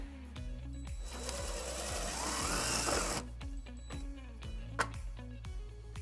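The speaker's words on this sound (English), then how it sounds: "we're going to drill our first hole" Power drill boring a hole for a trailer wiring bracket on a 2000 Infiniti QX4, a steady whirring run of a couple of seconds, close by, with clicks and handling noises before and after.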